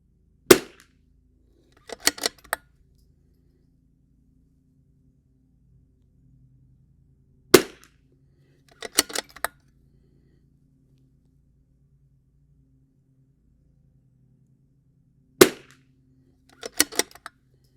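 A .22 pistol fitted with a 3-round extension magazine fires in short bursts: a single sharp crack, then a quick cluster of shots, repeated three times with long silent gaps between, loud and close.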